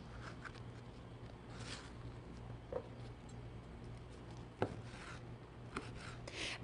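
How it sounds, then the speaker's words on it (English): A knife dices microwave-cooked turkey bacon on a cutting board, a quiet series of soft, irregular chops and taps with a faint low hum in the background. "And I'm just going to dice that now."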